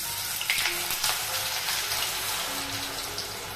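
Mint masala vada patties fry in hot oil with a dense, continuous bubbling sizzle that stays steady and close throughout.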